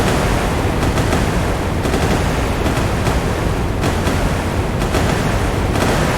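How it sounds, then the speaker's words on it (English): Loud, sustained rapid naval gunfire in a video game, a 1970s Italian cruiser Vittorio Veneto against Japanese destroyers, with repeated bursts and sharp blasts over a constant roaring wash, no voices. "Look at the rate of fire of those guns."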